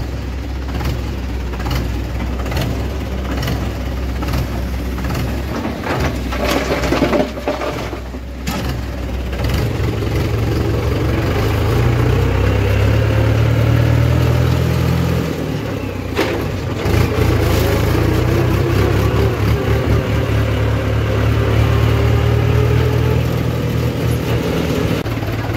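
Two tractors idle nearby while trolleys are loaded, their engines holding a continuous low rumble with a brief lull and a few louder revving swells along the way.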